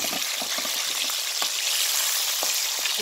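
Fish sizzles steadily in a hot frying pan as it is turned, a constant loud fry broken by a few soft scrapes and taps.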